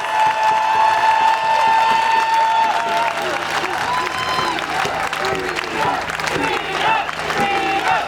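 A crowd at a rally for rights and freedom claps steadily and cheers, with whistles and shouts rising over the continuous applause.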